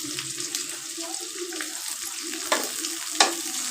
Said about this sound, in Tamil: நல்லா வதக்கி வச்சுக்கலாம். நல்லா வதங்கி வரட்டும்.